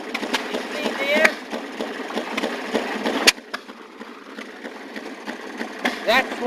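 A gasoline-powered Maytag washing machine engine runs close by with a rapid, rattling mechanical putter, while people talk over it.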